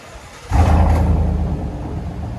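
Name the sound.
GMC Sierra 5.3L V8 with straight pipe exhaust, heard from inside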